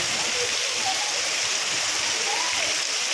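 Rainwater rushes through a completely full drain during heavy rain in a village, a loud, constant hissing roar of fast-moving water with no breaks.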